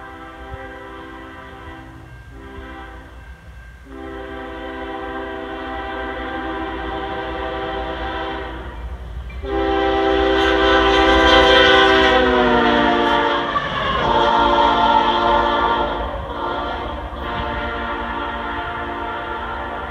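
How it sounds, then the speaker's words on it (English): A CSX freight power move on the Flint subdivision sounds a loud multi-chime locomotive horn in several long blasts that swell as it passes close, over a low rumble of the train. "Here we have a CSX power move on the Flint subdivision with an extremely nice horn."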